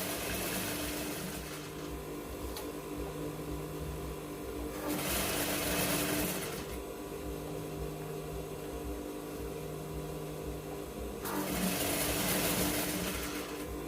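Close, moderately quiet electric sewing machine stitching a seam on Yoruba women's native wear (iro and buba), running in steady bursts with brief pauses and short higher-pitched spells between runs.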